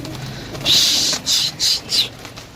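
Pigeons flushed from a rooftop coop, a run of four bursts of wing flapping and fluttering, fairly close and loud, with brief quiet gaps between them.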